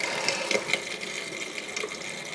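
Pink antifreeze runs steadily from a motorhome's sink faucet during winterizing, a continuous splashing water flow with a faint pump whine underneath.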